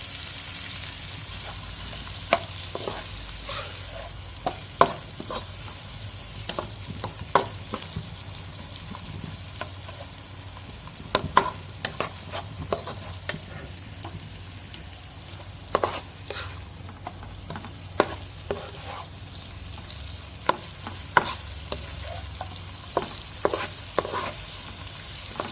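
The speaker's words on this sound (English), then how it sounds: "Just stir them until they're all cooked" Macaroni fried in a pan with sausages and prawns is stirred, a steady soft sizzle broken by frequent sharp scrapes and clacks of the utensil against the pan, close and without talk.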